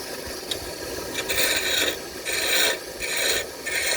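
Wood lathe turning a wooden spin top near 1100 RPM, the cutting tool chattering against the spinning workpiece in a loud, continuous raspy scraping that surges in repeated bursts, with no talking.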